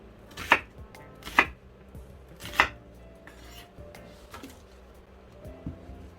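A knife chops through a large onion on a cutting board, three sharp distinct thwacks followed by a few softer taps, close and clear in a quiet kitchen.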